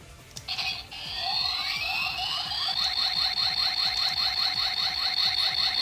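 Kamen Rider Kabuto toy transformation belt 'cast off' sound effect: a burst of rising chirpy tones that settles into a loud, steady, fast warbling beep pattern, with no voices.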